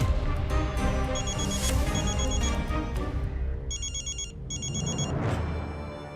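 A telephone rings in repeated electronic bursts over a dense background of music and ambient sound in a Hindi drama scene, with two clear ring sequences toward the end.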